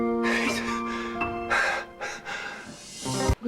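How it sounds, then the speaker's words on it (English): A hospital patient coming off a breathing tube gasps and breathes on his own, with several sharp breaths and snorts in short bursts amid tense background sounds. "He's breathing!"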